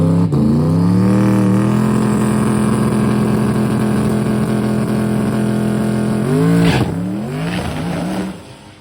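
A Mustang drag car on small tires makes a loud, close engine roar that climbs in pitch, drops briefly at a gear change, then surges again before fading.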